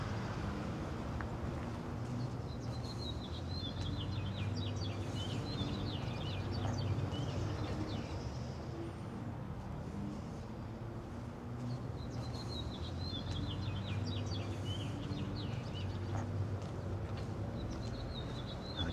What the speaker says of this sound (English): I guess I'll just walk and let you listen to the birds chirp.